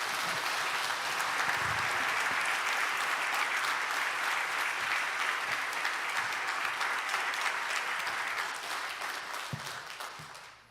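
A church congregation in Michigan applauds loudly to welcome the pastor, sustained dense clapping from a large crowd that fades out toward the end.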